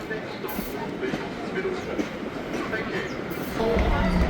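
A tourist train rolls from Victor Harbor to Goolwa in South Australia, heard from on board as a steady rumble of wheels and carriage noise that swells louder near the end, with voices faintly underneath.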